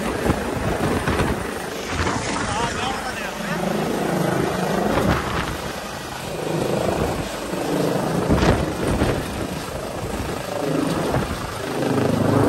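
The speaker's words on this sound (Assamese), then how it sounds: "তো গাইজ হেলিকপ্টাৰ গ'ল গুচি" A helicopter leaving after an election event, its rotor thudding and engine whining steadily as it pulls away amid strong gusting wind, with people talking nearby.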